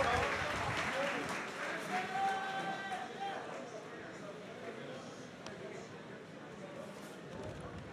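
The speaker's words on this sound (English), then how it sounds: "give these two warriors a round of applause." Applause fills a boxing tournament hall after a bout between two boxers, a steady wash of clapping that fades slightly over several seconds, with crowd murmur and voices mixed in around it.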